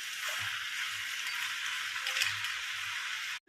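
Vegetables and bori dumplings stirred and cooked together in a pan for a winter mixed-vegetable curry, giving a steady, close sizzle with soft low knocks from the stirring throughout.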